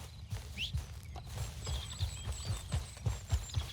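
Horse hooves clip-clop in the Red Dead Redemption 2 video game as a steady, moderately close walking rhythm under soft ambient outdoor sound and a few faint bird calls.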